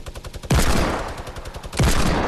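A minigun fires in Fortnite as a loud, continuous rattling burst of rapid gunfire, close and sustained across the moment with no talking.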